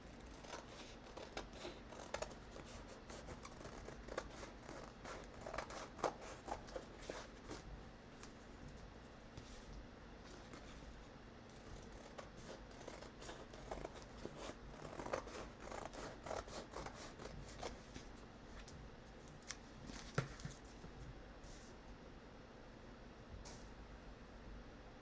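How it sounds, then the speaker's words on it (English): Scissors cutting canvas along a traced line for a reverse canvas heart craft, faint steady snipping and crisp rustling close by with no talk. "I'm actually going to go on the inside of my traced line to cut it just a little bit short"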